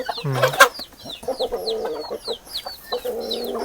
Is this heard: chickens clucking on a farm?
yes